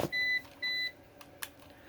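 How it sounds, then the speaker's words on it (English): APC UPS 450VA battery backup beeping: two steady high electronic tones in quick succession, moderately loud in a quiet room, followed by a faint click. "So it's beeping down here for some reason."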